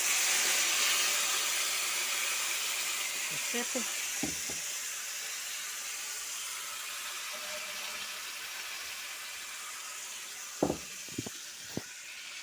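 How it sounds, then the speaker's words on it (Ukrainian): Vegetables for eggplant caviar frying in four pans at once, giving a steady loud hiss and sizzle throughout, with a few brief clinks and a short spoken word. "І буду спочатку все окремо обжарювати, а потім все разом в великій каструлі."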